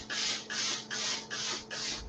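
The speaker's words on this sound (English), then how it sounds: "So it's steam, then no steam, steam, no steam." Rhythmic bursts of hissing steam from a Laurastar steam iron in pulse mode, about five pulses in two seconds, each a loud puff separated by brief gaps.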